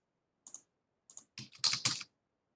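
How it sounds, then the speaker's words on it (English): Short bursts of computer keyboard typing during a programming class, a few sparse keystrokes followed by a quicker cluster of clicks, close and clear in an otherwise quiet room. "if I hit escape, and then I type, it doesn't do anything"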